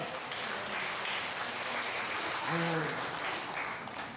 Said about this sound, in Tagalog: Palakpak nga po sa Panginoon